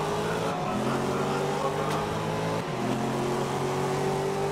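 Racing car engines drone steadily in the GRID racing game, with a Porsche pulling past; the sustained engine whine shifts pitch twice as gears change, loud and continuous under a faint voice.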